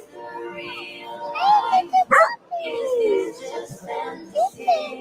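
A newly adopted puppy gives short yips and barks mixed with high whimpers, close and fairly loud, with a person talking over it.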